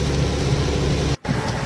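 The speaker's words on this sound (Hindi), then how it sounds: "बारिश ने जमा तोड़ पाड़ रखा है भाई" Heavy rain on a mountain road trip to Manali, a dense, steady roar with a low rumble beneath it, broken by one brief dropout near the end.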